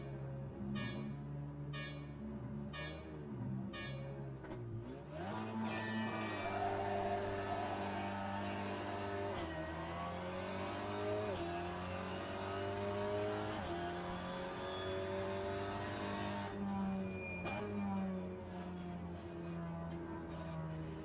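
A Golf GTI TCR race car in rFactor 2 revving hard at the race start, engine climbing through gears with rising, falling pitch sweeps over a continuous loud drone, accompanied by a few early horn-like tones.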